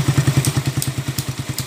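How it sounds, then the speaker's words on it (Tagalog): A Honda Raider 150 motorcycle idles with its exhaust muffled by an improvised silencer, giving a close, low, steady pulsing putter with faint higher ticks, no talking. "sinasaraan niya yung butas para tumahimik yung tunog ng tambutso."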